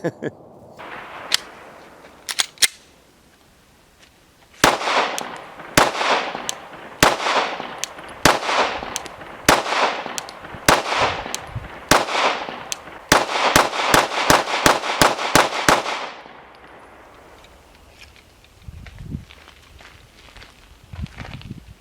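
A Glock 19 Gen 3 pistol on a Strike Arms compact frame fires sharp, loud shots outdoors, a few spaced cracks followed by a quickening string of rapid shots, then quiet with faint talk at the end.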